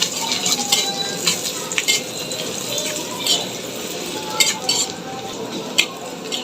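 Onions fry in a pot with whole spices such as bay leaf, cinnamon and cardamom, for beef cooked with chana dal. The sizzle is loud and close, broken by repeated scraping and stirring clinks from a utensil against the pot, with no voices.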